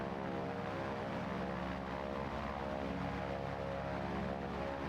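A fixed-wing training aircraft climbs out just after takeoff, with a steady loud propeller engine drone and cabin hum filling the cockpit at a constant level.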